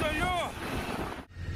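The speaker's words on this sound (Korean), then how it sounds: "비바람 속에서 5m 높이의 파도가 몰아쳐 구조에 애를 먹습니다." Stormy wind and rough seas off Jeju during a capsized 39-ton fishing boat rescue, a steady roaring gust of wind noise and crashing water that briefly drops away before returning, with a muffled voice mixed in.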